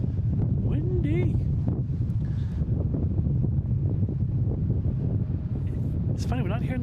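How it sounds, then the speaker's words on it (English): Steady wind buffets the microphone in a constant low roar at Boston Logan International Airport, with faint voices and brief tonal blips breaking through. "Windy."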